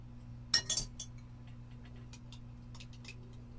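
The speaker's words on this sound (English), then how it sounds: "I need to get a little spoon out." A small spoon clinking as it is pulled out during chocolate cake making, a quick cluster of light metallic clinks at the start followed by a few faint taps over a quiet room hum.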